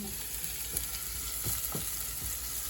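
Onion and garlic sautéing in a pan for igado crackle in a steady, close sizzle, with a few soft stirring taps and no voices.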